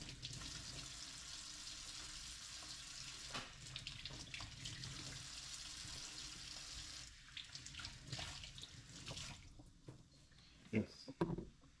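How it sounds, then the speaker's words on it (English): Vegetables get rinsed under a running kitchen tap, a steady hiss of water splashing into the sink with bursts and clatters as they are handled, and the water cuts off near the end. "So we're going to start by just washing out these."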